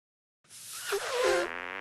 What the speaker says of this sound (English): You call that farting on someone?